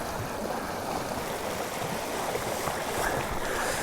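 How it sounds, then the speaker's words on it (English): Steady rushing of a current-heavy trout river in Southern Colorado, a continuous broadband wash of flowing water close by with no voices. "There's a deceptive amount of water flowing through here."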